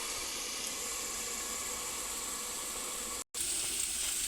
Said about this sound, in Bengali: আলুটা এর মধ্যে আদা দিয়ে আমি ভালো করে আলু দিয়ে ভেজে নিচ্ছি